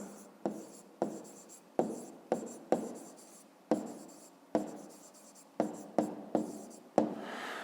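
Pen writing out the answer to a math exercise, a close series of quick scratchy strokes in irregular bursts with short pauses between.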